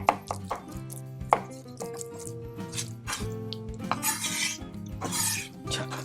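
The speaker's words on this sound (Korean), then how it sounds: "자, 이렇게 자른 다음에 방향을 바꿔주고요. 다시 다져주세요." A kitchen knife rapidly minces raw salmon on a cutting board, with a steady run of sharp, close chopping taps and a few scraping sweeps of the blade.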